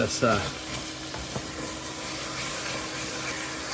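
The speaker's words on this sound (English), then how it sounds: "You can scrape all those bits off the bottom. Very important to scrape those bits." A pan deglazed with Merlot for Bolognese sauce sizzles steadily while a utensil scrapes browned bits off the bottom, close and moderately loud throughout.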